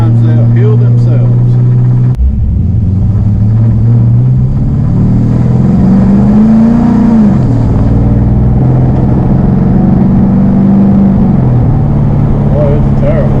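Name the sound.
LS-swapped Squarebody truck engine running, possible lifter or valve noise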